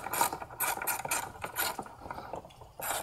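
A ratchet tightens a number 5 Allen screw while a high pressure fuel pump is installed on a VW 2.0T TSI engine, giving several close, rapid bursts of clicking.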